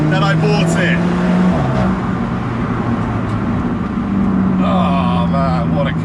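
An Alfa Romeo 4C sports car being driven hard, its engine droning steadily with rising and falling pitch as it changes revs, loud inside the cabin, with someone talking over it.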